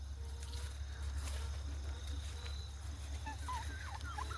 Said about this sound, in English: You're a fun chicken.